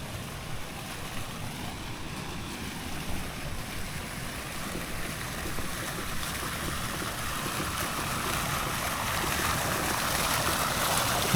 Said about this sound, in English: Look at them fountains over there.